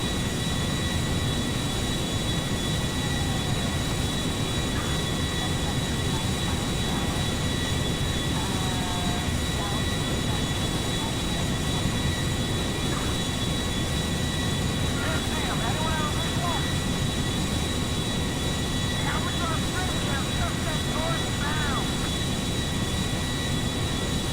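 Boeing 747 airliner engines in GTA 5 roar as a steady, loud broadband jet rumble throughout, with a few faint tonal chirps on top.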